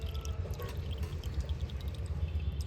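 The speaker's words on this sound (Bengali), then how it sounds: "একটা পাত্রের মধ্যে ঢেলে নিচ্ছি, কতটা পরিষ্কার হয়েছে আপনারা দেখুন।" Homemade coconut oil being poured into a container: a steady, soft trickling pour of liquid at close range, continuous and fairly quiet throughout.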